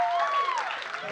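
A live studio audience at a comedic science show about dogs breaks into applause: a brief, fairly close burst of clapping with a thin tonal whoop over it.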